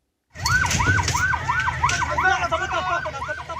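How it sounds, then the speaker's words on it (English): Ambulance sirens wailing as ambulances and carts carrying the wounded pull up to a hospital in Rafah, a loud, near, rapidly cycling siren that repeats throughout alongside vehicle noise. "ambulances and carts carrying the wounded pull up to a hospital in the city of Rafah"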